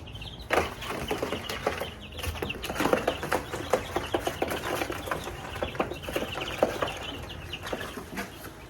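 Young chickens cluck and peep continuously in a backyard flock, many overlapping calls from close by over an outdoor background.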